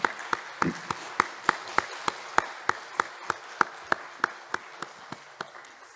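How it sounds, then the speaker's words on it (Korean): A Sunday worship congregation claps in rhythm to welcome and bless a missionary, a steady, evenly spaced beat of sharp unison claps over a soft room hum, fading slightly toward the end. "한번 박수로 축복하며 맞이하겠습니다"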